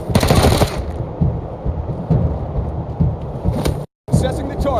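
Rapid bursts of automatic gunfire in the post-apocalyptic video game Wasteland 3, loud and close, with shots rattling over a dense mix and a brief silent gap near the end.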